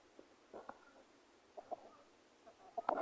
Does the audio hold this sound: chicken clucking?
yes